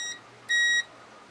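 A single short, clear electronic beep from a multimeter's continuity tester on a Honda Odyssey power sliding door switch, lasting about a third of a second against a quiet background, with no talking.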